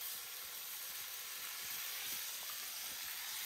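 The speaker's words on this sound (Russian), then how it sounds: "Заливаем воду." Water poured into a hot pan of noodles makes a steady, loud hiss and sizzle through the whole short stretch, with faint low rumbling beneath.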